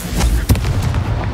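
A Confringo fire spell in the Hogwarts Legacy video game goes off in quick booming bursts, with a sharp blast near the middle over a dense rumbling game soundscape.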